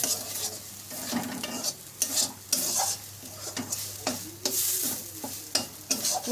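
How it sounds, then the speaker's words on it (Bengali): Tomato paste fries with spice masala in a pan, a hissing sizzle overlaid by frequent rhythmic stirring strokes and scraping of the spoon against the pan, near and fairly loud, with no speech. "মশলাটাকে ভালো করে কষিয়ে নেওয়ার পরে কিন্তু টমেটো পেস্টটা দিই।"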